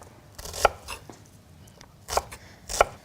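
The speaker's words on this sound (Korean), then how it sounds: "한 1cm 조금 안 되는 정도로 이렇게 사방 1cm 정도로 썰어 주시면 됩니다." A knife cuts an onion into roughly one-centimetre cubes on a board, giving a few separate crisp chops spaced unevenly over a couple of seconds, close and clear with no talking.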